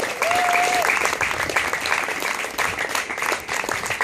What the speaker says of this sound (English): So I think everyone deserves a round of applause.